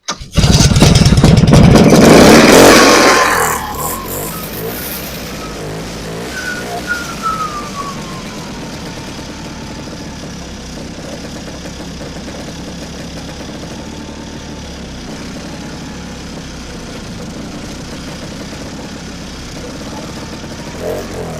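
A vintage snowmobile engine cranks and fires at the start of the season, roaring loudly for about three seconds before settling into a steadier, quieter running drone that continues to the end without talk.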